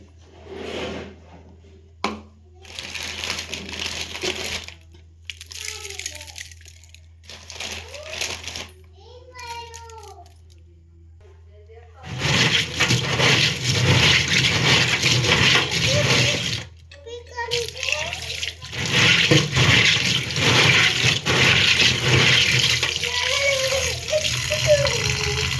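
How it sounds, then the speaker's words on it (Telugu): Water splashes and pours as small sea crabs are rinsed and scrubbed by hand with salt and turmeric, in loud bursts with pauses, while voices talk over it. "వీటినైతే ముందుగా ఉప్పు పసుపు వేసి కడిగేస్తాం"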